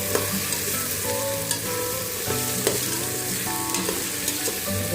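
Mushrooms fry with tomato in a pan as part of a mushroom biriyani, giving a steady sizzle with intermittent stirring scrapes and clinks.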